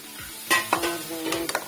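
Chopped tomatoes drop into frying bhindi masala and get stirred, giving a few sharp scraping strokes and a brief sizzle, close by and short.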